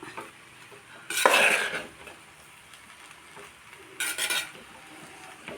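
A spoon scrapes and stirs through vegetable masala rice mixed with nuts in a metal pot, in two bursts of loud close scraping separated by a quieter pause.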